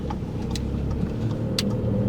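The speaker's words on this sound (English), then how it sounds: "He edges the car forward and safely pulls out." A car edging forward and pulling out at a T-junction during a driving test, a low steady engine hum from inside the cabin with slight rise as it moves off.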